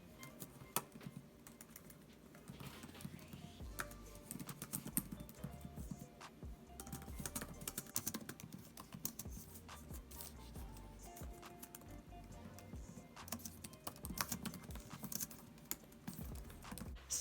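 Steady typing on a computer keyboard during a writing session, with fast irregular clicky keystrokes that keep going and stay quiet and close, with no talk.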